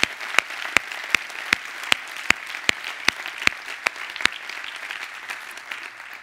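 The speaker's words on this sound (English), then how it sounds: "Oh, let's give a big round of applause." Sparse audience clapping at a gathering, with a few sharp, regularly spaced claps standing out over a softer patter of applause that thins toward the end.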